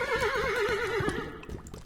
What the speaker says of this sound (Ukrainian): А ви чуєте, міс Еплтон? Коні.